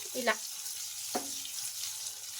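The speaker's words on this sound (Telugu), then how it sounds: "ఇప్పుడు ఈ స్టీమ్ చేసుకున్న ఉండలు వేసుకొని మొత్తం ఒకసారి ఇలా బాగా కలుపుకోవాలి." Steamed moong dal balls are stirred through a hot tempering in a pan, a soft sizzle running throughout with two brief scraping stirs of the spoon.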